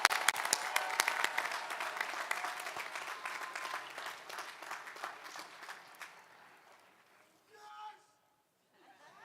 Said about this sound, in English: another round of applause for all of our graduates from the School of Business